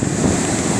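A boat punches through the surf to land on the beach during a snoek fishing derby, heard as a brief, loud blast of churning water and wind buffeting the microphone.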